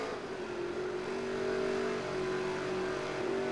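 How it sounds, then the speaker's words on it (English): Race car engine drones steadily from behind in NASCAR Heat 3, a sustained tonal roar that swells slightly louder midway as the car closes in, with no talk over it. "Third place car coming up behind."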